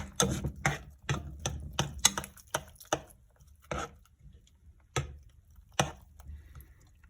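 A utensil stirs a cold egg mixture for French-style eggs in a bowl or pan, giving about a dozen irregular, close knocks and scrapes that thin out toward the end, with no talking.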